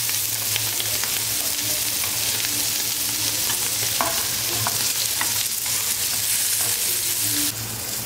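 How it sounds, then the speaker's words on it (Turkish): Eggplant slices fry in hot oil in a pan, giving a continuous close sizzle with occasional light scrapes and stirring taps. "Zaten patlıcan çok çabuk kızarıyor."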